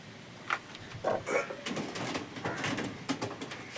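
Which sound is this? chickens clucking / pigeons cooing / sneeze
pigeons cooing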